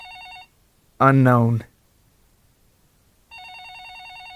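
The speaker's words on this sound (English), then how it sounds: "Again, the phone rang." An electronic telephone ring warbles in two bursts separated by a gap, with a short stretch of voice between them, clear and close.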